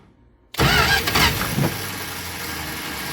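A 1972 Plymouth Gold Duster with a 318 V8, long unrun, catches abruptly after a quiet moment, roaring loudly up close before settling into a rough, steady idle.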